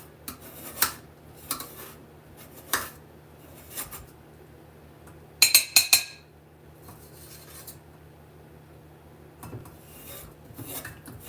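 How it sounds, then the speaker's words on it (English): A utensil scrapes butter off a sheet of ice for magic rice crispy treats, making short, rasping strokes in separate bursts with quiet gaps between, close and crisp, with a quick flurry of scrapes about halfway through. "we're just gonna scrape all that we can scrape off"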